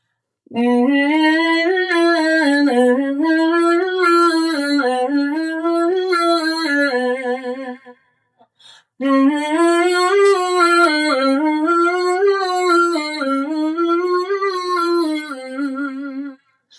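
A voice hums a rising and falling five-note major scale twice with the mouth slightly open, a short pause between the two runs, clear and alone.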